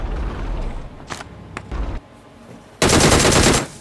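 Automatic weapon fire from the mobile battle royale shooter PUBG Mobile, with several short bursts early on, a quiet gap, then one loud sustained burst near the end.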